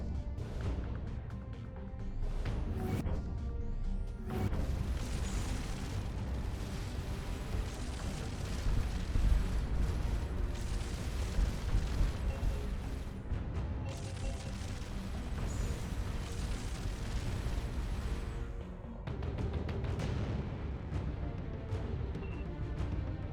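A spaceship's gun firing in the space exploration game Starcom Nexus, a sustained roaring, crashing barrage of heavy booms that stays loud and continuous, with brief dips before surging again.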